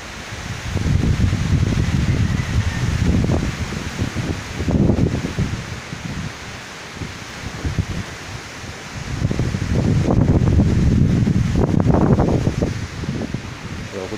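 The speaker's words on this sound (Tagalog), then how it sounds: "Malakas ang hangin dyan." Gusts of strong wind buffet and roar in waves, swelling loudly, easing off for a few seconds, then surging again with rustling.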